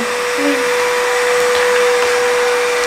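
A Redkey W12 vacuum floor washer runs indoors with a loud, steady motor whine and airflow hiss that stays even and continuous from start to end, close to the listener.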